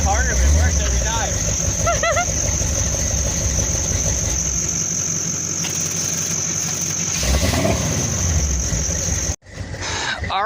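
A Chevrolet Blazer engine runs steadily after a balky start, a loud continuous idle with a persistent high whine, close to the listener, with voices talking over it before it cuts off abruptly near the end.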